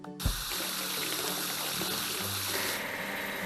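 Foam sprayed onto a metro car during a cartoon wash comes through as a steady, hissing water-like spray that starts after a brief thump and runs continuously at moderate volume, with no talk.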